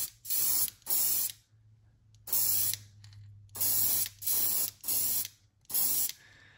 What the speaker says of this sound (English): spraying that area